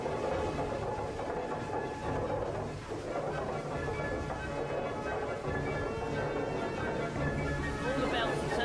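A belt-driven trip hammer on an Edwardian farm runs with a continuous mechanical chuffing and clatter like a steam engine, steady and fairly loud, with belts turning throughout.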